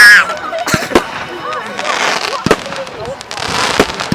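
Fireworks go off on bonfire night, with several sharp bangs and crackles at a moderate distance, spaced a second or so apart, while people talk nearby.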